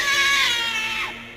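A cat gives a single close, clear meow that falls in pitch and fades out after about a second.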